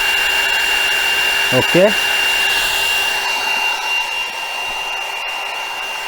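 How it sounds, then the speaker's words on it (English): An 800 watt air-cooled Sainsmart CNC spindle on a 4040 Pro machine, driven by its VFD control box, runs at full speed with a steady high whine and airy fan hiss throughout, fairly loud and close, while a voice says a brief word. "Quiet really compared to the router types and even the 500 watt spindle."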